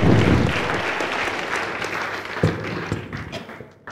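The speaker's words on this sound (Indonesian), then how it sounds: "sekali lagi beri tepuk tangan" Enthusiastic church audience applause, dense and close at first, then gradually thinning and fading toward the end.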